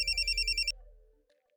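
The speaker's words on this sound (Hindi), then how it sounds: "अभी फोन आ रहा है, देख के आते हैं किसका है।" A telephone rings in a home with a bright, pulsing electronic tone for under a second, then stops and leaves a quiet room with a faint low hum.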